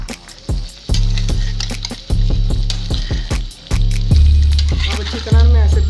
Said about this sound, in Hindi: अब अच्छी तरह मैं ऐसे भूनती हूँ, घी भी आ जाएगा।